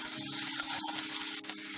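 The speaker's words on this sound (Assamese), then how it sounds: "আদা নহৰুখিনি ভজা গৈছে," Ginger garlic paste fries in a pan with onions for a capsicum masala, giving a close, steady sizzle with light crackles and occasional stirring scrapes.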